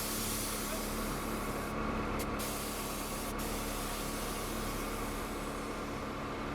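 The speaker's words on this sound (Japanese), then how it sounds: "ロックを外して後ろも上げ下げます。" Air suspension on a Ferrari 360 Modena being raised and lowered, giving a steady, loud pneumatic hiss that runs unbroken throughout.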